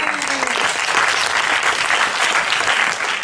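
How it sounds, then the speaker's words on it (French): Audience at a gala magic show applauding loudly and steadily, a dense, sustained wash of clapping from a sizeable crowd throughout. "On applaudit très très fort Miran."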